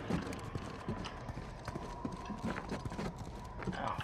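Hoofbeats of a ghost horse in the video game Uncharted 4, a steady clip-clop rhythm at moderate distance over a busy game soundscape, with an occasional faint whinny.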